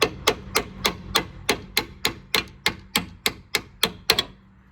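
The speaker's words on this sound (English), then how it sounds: "I'm gonna use a hammer and just hammer it out" A hammer striking out a drop link on a Citroen DS4 anti-roll bar, about a dozen sharp metallic blows in a steady, quick rhythm, close and loud, with no talk.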